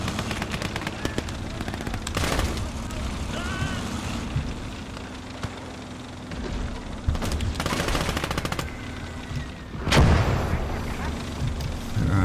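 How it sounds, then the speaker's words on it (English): Soviet mortar rounds and machine-gun bursts in the Call to Arms - Gates of Hell WWII game, rapid rattling volleys and heavy booms spaced through the scene, with someone talking intermittently. "I think those are Soviet mortars."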